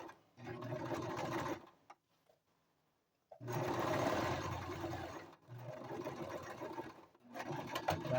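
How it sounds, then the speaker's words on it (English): A sewing machine stitches the shoulder seams of a toddler vest in several bursts of steady whirring, close and clear. Short pauses come between runs, one longer near the middle. "sewing the shoulder seams"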